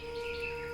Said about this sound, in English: Ambient bird noises.